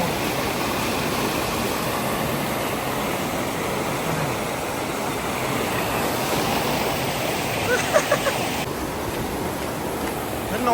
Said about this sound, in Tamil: மக்களே ஆறு ஓடிக்கொண்டிருக்கு பாருங்க